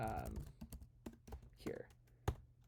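Quick, irregular clicks of a computer keyboard as someone types out a short script, the keystrokes close and crisp, with a voice briefly murmuring near the start and again midway.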